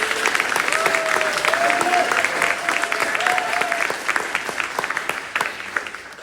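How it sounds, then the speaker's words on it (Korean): A gathered crowd at a Korean political campaign disbanding ceremony claps together in a loud, full round of applause that thins slightly toward the end, with a few voices calling out underneath. "박수를 한번 다시 한번."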